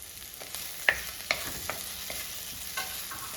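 Chopped okra and green chillies sauté with softened onion in a pan for a Kerala-style okra and prawn dish: a soft, continuous sizzle with a few sharp spatula taps and scrapes, and no voices.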